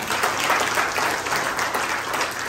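A church congregation applauds during a Sunday service, a loud, continuous burst of many hands clapping close by, even in intensity throughout with no talk over it.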